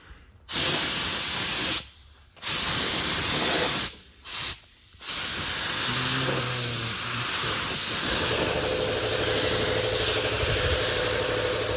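A spray gun applies paint to a panel on a 1971 Plymouth GTX, loud close hissing bursts in short on-off trigger pulls, then one long continuous spray pass with a faint engine-like hum underneath.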